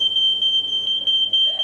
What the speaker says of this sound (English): The stupid alarm!